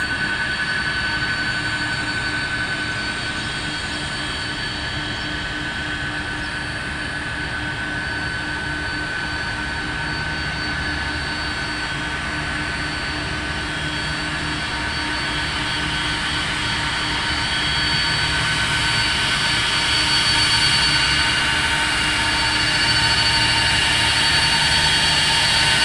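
A jet airplane near the runway at Dhaka airport, a loud, continuous engine roar with a high whine that holds steady and swells slightly as it draws closer, with no voices.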